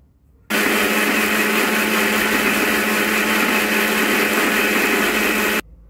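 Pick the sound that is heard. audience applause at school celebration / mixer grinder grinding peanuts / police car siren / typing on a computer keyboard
mixer grinder grinding peanuts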